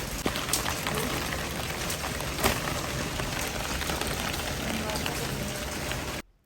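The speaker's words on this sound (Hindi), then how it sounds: "तो बारिश का खूब मज़ा हमने ले लिया" Steady heavy rain patters evenly and continuously on surfaces, with a few louder drip impacts. The sound is dense and close, then stops abruptly near the end.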